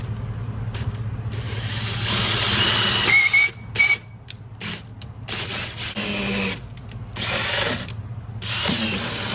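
Bolts on the bottom of a Carolina Skiff 16 boat being tightened, with a long steady ratcheting and mechanical rasp broken by short pauses, up close over a constant low hum.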